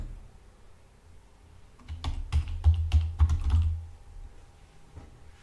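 Keys clatter in a quick burst on a computer keyboard as a password is entered, a cluster of close, sharp clicks in the middle of an otherwise quiet stretch.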